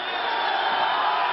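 Crowd at a boxing match roaring and cheering, a dense, loud, sustained wash of voices with no breaks.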